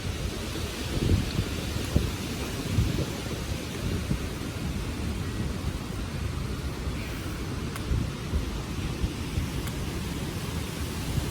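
A thunderstorm with rain pours down steadily, a dense low rumble and hiss of rainfall with wind gusts throughout, distant thunder rolling faintly underneath, no voices.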